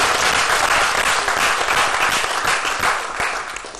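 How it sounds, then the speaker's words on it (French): A comedy show audience bursts into loud, dense applause for a performer taking the stage, the clapping sustained and close before tapering off near the end. "je vous prie d'applaudir très fort pour Abel qui va venir"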